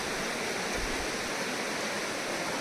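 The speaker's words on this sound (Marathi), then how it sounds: "एवढी नदी वाहते पाऊस वरून खूप पडतोय" A river rushes in heavy rain beside the hot spring pools at Unhavare, Mandangad, making a constant, dense hiss of flowing water that stays level and close.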